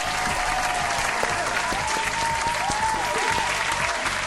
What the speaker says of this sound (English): And here is this abrupt, hand claps for you.